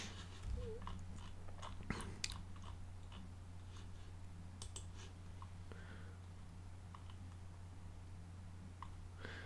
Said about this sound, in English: this is my keyboard